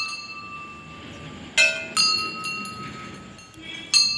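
A small temple bell struck by a child climbing temple steps with his father, giving a few bright, ringing metallic strikes with sustained tones amid a busy crowd hum.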